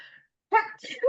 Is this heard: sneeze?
yes